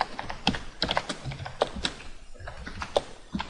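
Computer keyboard typing with quick, irregular key taps in short bursts, close and clear, with no talking.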